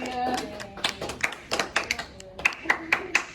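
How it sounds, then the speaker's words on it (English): A few people clap in quick, uneven succession, sharp individual claps rather than a full crowd, close and fairly loud. "Keep the applause going for me"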